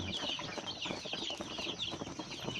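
Many four-week-old Roman Brown laying hens clucking and chattering together in a close, busy flock, continuous soft calls overlapping without pause.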